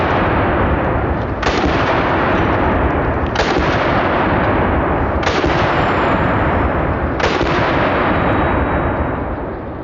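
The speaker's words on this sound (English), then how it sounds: "one downside to semi-auto shotguns is the amount of shells you can blow through in a very short amount of time" A Typhoon F12 semi-automatic 12 gauge shotgun firing birdshot: four loud, sharp blasts spaced roughly two seconds apart over a constant roar of noise, each shot ringing out before the next.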